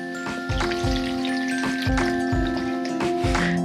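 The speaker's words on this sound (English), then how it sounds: "Now I'm gonna add some more water." Water poured into a container of pulp for making recycled paper: a steady, close splashing and gurgling stream under a faint tonal hum.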